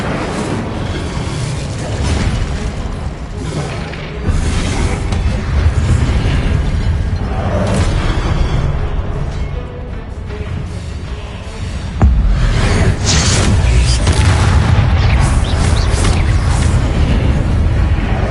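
Confringo and Incendio spell blasts fired in the Hogwarts Legacy video game: loud, dense bursts and booming impacts with fiery crackle, sustained over a busy combat soundscape, intensifying toward the end.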